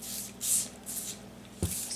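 Coffee dye sprayed onto 24-pound paper with a doily laid on top, heard as several short airy hisses from a hand spray bottle, close and moderately loud, separated by brief pauses and a soft thump as the sheet is turned.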